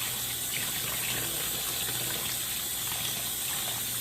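Cured salted beef held under a running tap, an even rush of water splashing in a sink for a few seconds, quiet and steady without any voices.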